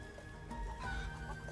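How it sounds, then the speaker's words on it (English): Chickens cluck softly in the Final Fantasy 7 Rebirth video game, a few short faint clucks over a steady background music bed. "I can't keep up with a flock of chickens."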